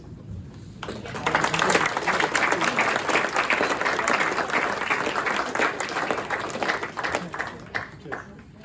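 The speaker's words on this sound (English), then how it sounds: "We'll come up and have a round of applause" A round of applause from the audience at a youth engagement event held at an office venue, dense clapping starting after a brief pause and sustained for several seconds, with some voices mixed in.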